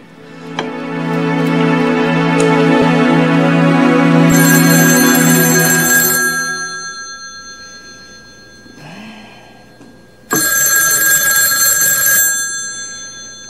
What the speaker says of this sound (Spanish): Contesten ese teléfono.